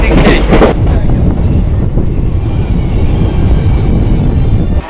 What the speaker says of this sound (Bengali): আসলে ট্রেন খুব দ্রুত চলছে